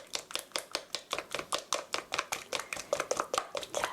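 Eggs with a teaspoon of vinegar are beaten in a bowl, producing a fast, even series of sharp tapping whisk strokes, close and fairly loud, with no voices.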